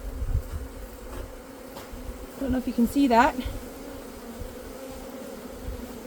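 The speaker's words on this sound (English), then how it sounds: "That's all the bees in the box still." Honey bees in a nucleus colony box give off a continuous droning buzz, close and steady, with a louder swell in the middle as someone briefly speaks.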